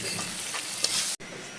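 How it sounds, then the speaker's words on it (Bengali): Spice masala stirred and fried in oil for a Narsingdi-style flat bean (sheem) dish: a steady, close sizzle with stirring scrapes, broken by a brief silent gap near the end. "মশলাটাকে নেড়ে চেড়ে কষিয়ে নেব কিছুক্ষণ"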